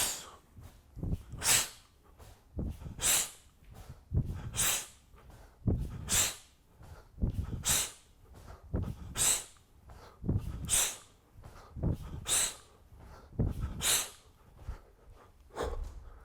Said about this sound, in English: Exhaling sharply through the mouth, inhaling as I come down.